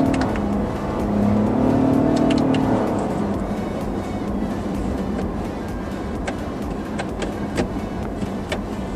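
A Lexus LBX compact SUV switched into sport driving mode revs its engine, the pitch rising briefly near the start, then settling into a steady cabin hum with small clicks, and no talk.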